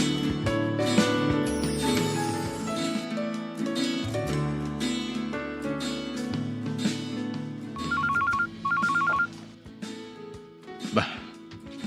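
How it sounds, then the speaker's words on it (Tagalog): A telephone rings in two short electronic bursts in the middle of a dramatic scene. The ringing sits over busy background music and other sounds, and a brief rising tone follows near the end. "Ang telepono."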